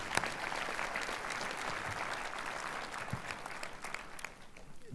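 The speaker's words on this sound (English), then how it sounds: "please join me again in thanking our employees with a round of applause." A college inauguration crowd applauds, with a steady, fairly distant wash of clapping and scattered sharper claps over about five seconds.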